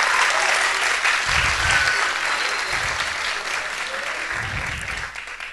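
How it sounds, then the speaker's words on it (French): An audience applauds in a festival hall at the Institut français du Gabon, loud dense clapping that fills the room and fades slightly toward the end, with a few low thumps beneath. "On peut applaudir."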